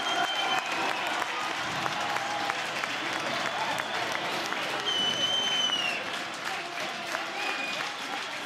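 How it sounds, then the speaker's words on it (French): A large crowd gives an ovation as Dutch rider Niki Terpstra enters the Roubaix velodrome to win Paris–Roubaix 2014, sustained loud applause and cheering with whistles, while a commentator talks over it. "Je vous laisse écouter l'ovation."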